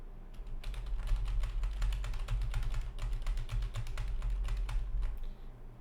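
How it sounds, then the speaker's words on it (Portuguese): Rapid keystrokes on a computer keyboard are picked up by a Blue Yeti X microphone, a steady run of close, crisp taps over a low background hum, with no talking. "Vamos testar o teclado."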